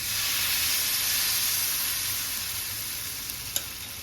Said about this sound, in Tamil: அடுப்பில் தோசைக்கல் போட்டிருக்கேன் நல்லா காஞ்சிட்ருக்கு கரைச்சி வச்ச மாவுலேருந்து நம்ம ரவா தோசை போடுற மாதிரி தான் இந்த மாதிரி விட்டுக்கணும்